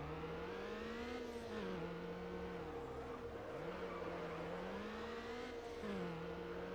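Engine of a car in Need for Speed Underground droning steadily as it drives and drifts, pitch rising and dipping with throttle changes over a constant road rumble, no talking.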